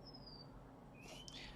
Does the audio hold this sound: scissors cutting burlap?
no